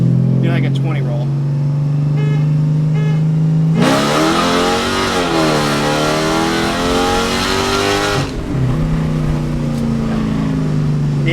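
A Mercedes CLK55 AMG with an M113 engine and solid motor mounts accelerates hard with brief wheelspin on a hot day, a loud rising engine roar near the mic. The engine settles back to a steady drone afterward.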